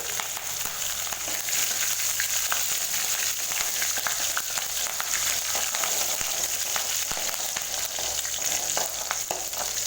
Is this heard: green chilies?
yes